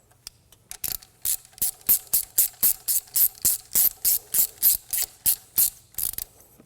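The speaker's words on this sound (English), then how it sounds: "you can then tighten them up with a ratchet" A ratchet tightening EGR valve bolts on a Land Rover Discovery gives about sixteen sharp, evenly spaced clicking bursts in a steady back-and-forth rhythm, close and clear with no voices.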